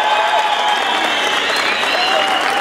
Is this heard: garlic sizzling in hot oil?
no